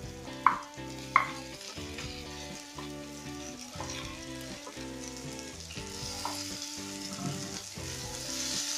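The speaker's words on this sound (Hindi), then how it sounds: "अब हम इसमें आलू ऐड कर देंगे।" Potatoes sizzle with browning onions in a pan, a continuous close frying hiss under repeated rhythmic stirring scrapes and two sharp clanks near the start, with no voices.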